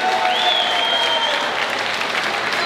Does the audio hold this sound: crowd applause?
yes